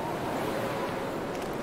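Wind howling across the snowy wilderness in the survival game The Long Dark, a steady broad roar with no gusting breaks, filling the scene alone at a constant level.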